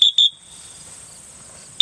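Three shrill blasts from a dog training whistle: two quick ones close together, then a pause of about a second and a half before the third. All are loud, close and piercing, with no talking.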